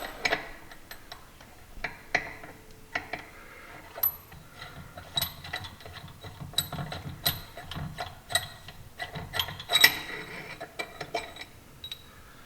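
Ratchet wrench with a 7/8 socket loosening the clutch bolt on a Can-Am X3, rapid clicking pawl bursts in irregular runs of short ticks, close and fairly loud, with brief pauses between strokes.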